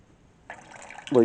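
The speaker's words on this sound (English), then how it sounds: "once diesel starts pouring out, which I will demonstrate with a faucet" Water from a faucet starts to run halfway through, making a short, soft, close splashing stream, and a voice begins talking right at the end.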